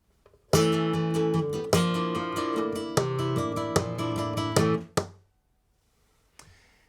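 Flamenco guitar strums a bulerías compás phrase with sharp accented chords in a driving, syncopated pattern, then stops abruptly and rings out into near silence.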